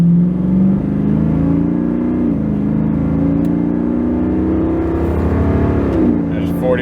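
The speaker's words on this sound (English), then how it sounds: "We're gonna do like a moderate acceleration. Still working on the gear braking, so we're not gonna go crazy, but nice deep tone." Vehicle with a custom true dual exhaust accelerating moderately on an interstate, a loud deep engine drone rising in pitch and shifting between gears, with someone speaking over it.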